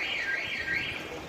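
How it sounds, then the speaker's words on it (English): A street alarm goes off outside near open shops during a bike ride, a steady wavering electronic tone sounding continuously at moderate distance. "Some alarm going off."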